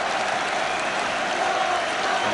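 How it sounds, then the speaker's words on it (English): A football stadium crowd applauding a player returning to action, a dense continuous wash of clapping and crowd noise at steady loudness. "the crowd giving him a tremendous reception"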